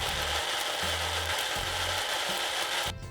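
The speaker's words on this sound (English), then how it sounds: "Put on the lid and start blending away." A blender whirs loudly and steadily with low churning pulses underneath, blending sweet chili sauce ingredients, then the motor cuts off near the end.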